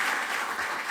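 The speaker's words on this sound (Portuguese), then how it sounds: "Vamos aplaudir o Senhor pela vida dele" A church congregation at a sermon applauds in a dense, continuous wash of clapping, loud and close throughout the brief moment.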